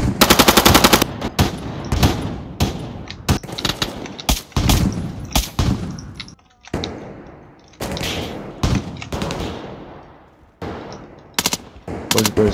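Machine gun fire in Call of Duty: Modern Warfare erupts in loud, close, rapid bursts separated by brief pauses and scattered single shots.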